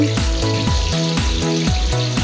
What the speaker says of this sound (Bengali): পেঁয়াজ আর শুকনো মরিচ একসাথে তেলে ভেজে আলু ভর্তা করলে অনেক সুন্দর একটা ফ্লেভার আসে